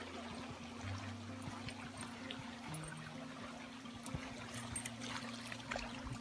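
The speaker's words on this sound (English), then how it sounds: "A river running through." A river runs past, its steady trickling, burbling flow filling the background continuously, with a low mechanical drone humming alongside it.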